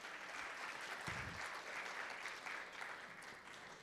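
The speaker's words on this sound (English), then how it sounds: "Can you please give a big round of applause for Chef Sean and Josh" A fundraiser breakfast crowd gives a round of applause for two chefs working in the back, a soft, distant wash of clapping that stays steady throughout.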